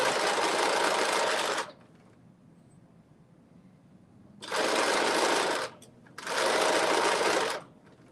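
A sewing machine stitching an elastic casing on a garment runs in three steady, loud bursts, the first about a second and a half long and the last two back to back after a quiet pause.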